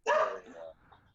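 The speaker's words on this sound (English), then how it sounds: "the dog barking is quite loud" A dog lets out one loud, close bark with a short whimpering tail, then goes quiet.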